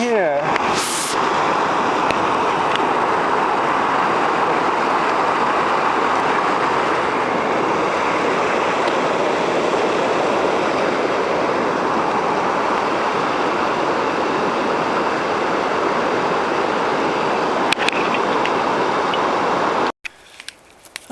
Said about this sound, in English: Now we're going to cross the creek right in here.